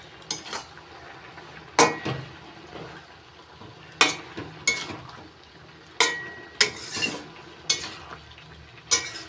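Spinach is stirred and mixed in a pan, heard as repeated sharp metal clanks and scrapes of a spatula against the pan every second or so, over a faint background sizzle.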